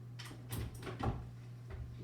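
A Supra key lockbox being fitted onto a front door, heard as a few soft knocks and scraping clacks of metal against wood over a steady low hum.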